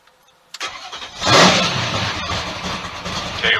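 A car fitted with Flowmaster mufflers starts up in a tech inspection line. A brief crank gives way to a loud, rising exhaust roar that settles into a steady, rumbling idle close by, with no talking.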